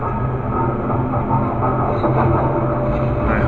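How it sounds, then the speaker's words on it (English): Steady low mechanical rumble of a refinery running in the game Space Engineers, a continuous droning hum with faint clattering texture that holds at an even, moderate level throughout, with no talking over it. "You can hear my refinery doing its job."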